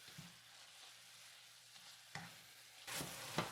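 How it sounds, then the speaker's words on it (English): Ground beef browns in a pan with a faint, steady sizzle, joined by a few louder scraping stirs as a utensil breaks the meat apart, with no talk. "Break apart the ground beef. Try to brown up the ground beef."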